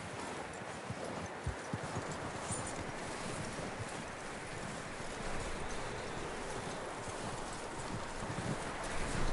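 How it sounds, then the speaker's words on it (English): Horse hooves clip-clopping in the video game Red Dead Redemption 2, a steady muffled patter of steps under broad outdoor ambience and wind, fairly quiet, with no talk. "That looks like a decent horse."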